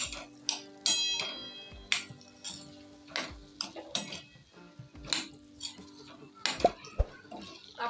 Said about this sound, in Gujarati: હવે આપણે આની અંદર તેલની અંદર સરસ રીતના મિક્સ કરી લેવાનું પહેલા।